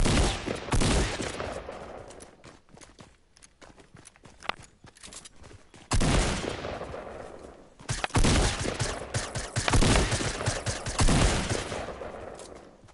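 Dense bursts of rapid gunfire from a first-person shooter video game, with clusters of shots around the start and from the middle onward, plus a quieter stretch of scattered pops in between.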